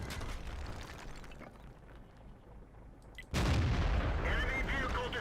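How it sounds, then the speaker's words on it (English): Artillery shell from World of Tanks lands with a sudden heavy boom about three seconds in, followed by a sustained rumbling crash, after a stretch of low engine and ambient noise. "I don't want to get hit by this artillery, so I don't want to sit still either"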